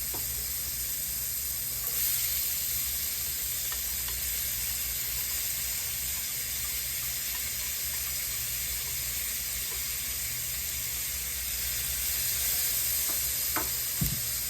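Peppers sizzle and fry in a pan with onion and garlic for oyster mushroom fajitas, a steady close hiss that runs throughout, with faint stirring scrapes and a small clack near the end.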